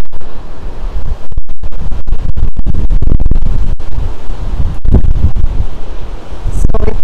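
Strong wind buffets the microphone at Miami Beach on the Gold Coast, a loud continuous roar with crackling gusts and faint surf beneath.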